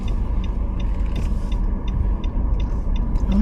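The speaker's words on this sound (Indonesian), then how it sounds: "Ada mobil ada di sana." Car traffic on a one-way street in Georgetown, Washington DC, with a steady engine and road rumble passing close by and faint creaks and mechanical clicks over it.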